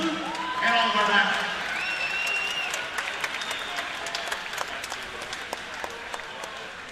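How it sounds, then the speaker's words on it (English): Applause from the audience at the IHSA boys swimming and diving state finals, a broad steady wash of clapping lasting throughout with a loud announcer talking over it in the pool hall. "And as Luke steps up, one more big round of applause."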